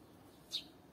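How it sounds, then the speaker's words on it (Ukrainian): A sparrow lets out one brief, faint chirp, heard alone against a quiet outdoor background in a summer vegetable garden. "Горобець прилетів."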